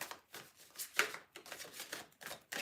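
Tarot cards being shuffled by hand, a soft riffling and slapping in short repeated bursts, close and faint.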